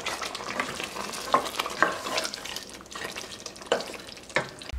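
Crushed fenugreek, chopped ginger, coriander and a spoon of flour are stirred into a simmering mutton malai handi, with close scraping strokes and clinks of the spoon over a soft sizzle.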